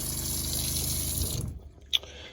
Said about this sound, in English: when I turn it on, you'll hear the water pump kick on, which is kind of loud